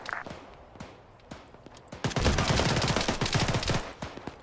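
Close-quarters firefight in Arma 3, modded: scattered single gunshots early, then a dense, loud burst of rapid automatic gunfire with overlapping shots for about two seconds before tapering off.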